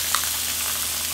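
Seasoning sauce goes into a hot pan of braised tofu and enoki mushrooms, giving a steady, close, broadband sizzle that holds evenly throughout with no talking.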